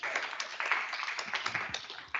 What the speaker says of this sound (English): So I think we all are just going to clap for you now